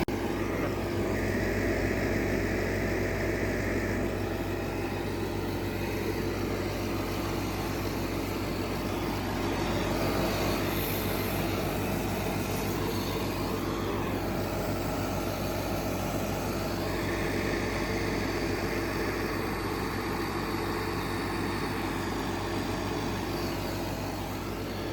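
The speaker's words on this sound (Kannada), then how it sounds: "ಸೊ ಗಾಡಿನ ಮತ್ತೆ ಸ್ಟಾರ್ಟ್ ಮಾಡ್ಯಾರ, ಇಂಜನ್ನ. ಎಷ್ಟು ಅಬ್ರೇಷನ್ ಆಗುತ್ತಪ್ಪ ಅಂದರೆ ಗಾಡಿನೇ ನಡ್ಗ ಆಗುತ್ತೆ." Ashok Leyland refrigerated container truck with its engine idling, a steady low rumbling drone with a faint higher hum, continuous and fairly close, no talking.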